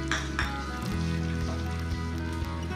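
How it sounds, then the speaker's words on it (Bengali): Mace and a couple of cracked green cardamom pods crackle in hot oil while being stirred for butter chicken: a steady close sizzle over a low hum, with a few sharper pops near the start and no voices. "তাতে ফোড়ন দেবো একটু জয়িত্রী, আর 2টো ছোট এলাচ"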